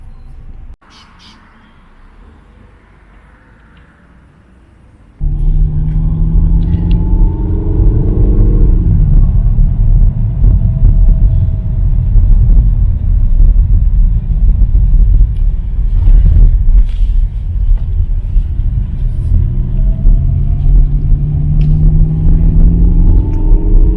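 A Peugeot 3008 driving in manual with Sports Plus mode engaged, its engine giving a steady, loud low rumble that swells up after a quieter opening few seconds and holds on continuously.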